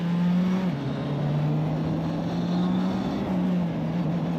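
GB4 race car pulling away on track, a loud, close engine drone holding steady pitch with a short dip as it shifts gear, continuous with no talk.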